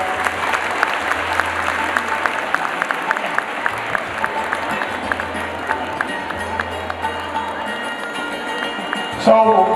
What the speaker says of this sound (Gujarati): આપણે જોરદાર તાળીઓથી આ ક્ષણને વધાવીએ